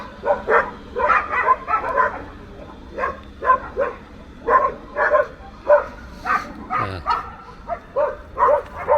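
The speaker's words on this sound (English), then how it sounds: "Don't get me in trouble for wild, out-of-control dogs." Several dogs bark and yip on an outdoor walk in Cyprus, loud repeated bursts in an uneven rhythm that fill the whole stretch, with a few softer whimpers between them.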